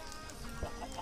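Minecraft chickens give a short burst of clucking, up close over a busy game background.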